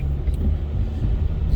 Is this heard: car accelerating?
yes